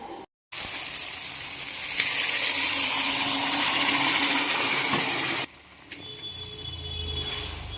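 Electric kitchen grinder blending cumin, tomato, five or six green chillies and a few pieces of ginger for sambar: a loud continuous whirring run of several seconds, a brief stop, then a quieter second spin.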